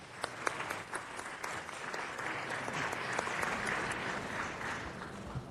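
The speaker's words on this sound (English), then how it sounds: "Give her a round of applause." Audience applause for Claudia Bayard at a city council meeting, dense sustained clapping from a crowd with a few sharp individual claps early on, fairly distant and even throughout.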